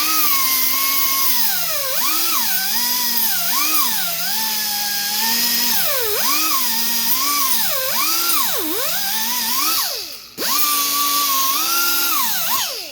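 A power tool grinds rust buildup off brake parts, its high whine rising and dipping repeatedly as pressure changes, loud and close, with a brief stop near the end before spinning back up.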